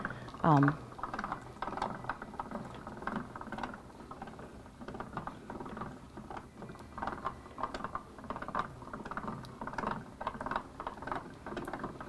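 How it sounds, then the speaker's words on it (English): A Gall sewing cutter being cranked by hand to cut 2.5-inch fabric strips, making a soft steady mechanical clicking and whirring of gears that runs throughout while a person talks over it. "and then you just insert that and turn the handle here"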